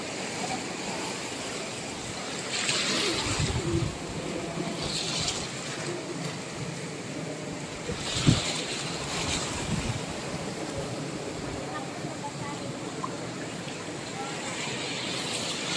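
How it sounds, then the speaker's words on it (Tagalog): Strong sea waves breaking on Boracay beach in the Philippines, a steady broadband surf wash with louder surges around a few seconds apart, mixed with wind noise on the microphone, no talk. "Malakas na alon."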